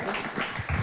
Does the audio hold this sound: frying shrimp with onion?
no